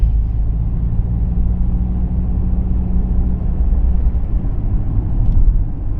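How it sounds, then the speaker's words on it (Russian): An Audi A4 B8 picks up speed on cruise control, heard from inside the cabin as a loud, steady low engine and road rumble that holds even throughout, with no one talking. "вот он спокойном таком режиме ускоряется до 80 и будет держать скорость"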